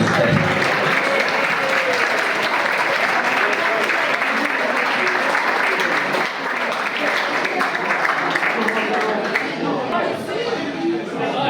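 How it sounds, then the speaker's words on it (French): An evening carnival guild gathering applauds itself in a long, full round of clapping, dense and steady, with some crowd voices and chatter underneath, easing slightly toward the end. "Vous pouvez vous applaudir."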